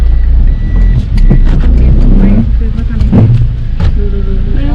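A car being driven on a road, a steady engine rumble with passing road noise throughout, while people talk over it.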